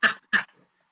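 Dog in a room giving two short, sharp barks a fraction of a second apart, close and fairly loud, followed by silence.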